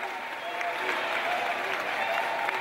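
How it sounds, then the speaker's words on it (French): A gathering of civil society groups greets a newly elected president with continuous, moderately loud crowd applause, an even dense clatter with no breaks. "C'est par un tonnerre d'applaudissements que les organisations de la société civile ont accueilli le président fraîchement élu"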